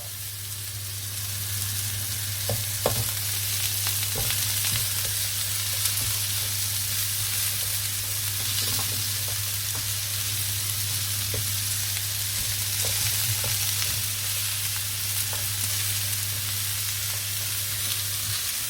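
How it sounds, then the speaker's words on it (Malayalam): Broccoli added alongside beef steak sizzles in a hot pan, a steady, even frying hiss over a low hum, with occasional faint clicks of stirring and no talking. "ഇതിൻ്റെ കൂടെ തന്നെ നമുക്ക് കുറച്ച് ബ്രോക്കോളി കൂടെ ഇട്ട് കൊടുക്കാം കേട്ടോ."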